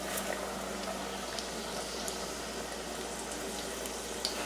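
Hot oil hisses steadily in an old-fashioned pot being readied for frying chicken, a dense, even sizzle close by with occasional small pops and no talking.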